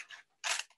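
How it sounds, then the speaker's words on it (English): Scissors snip through paper for a kids' chalk craft, two quick close crisp cuts in under a second, alone. "poking my scissors right through there"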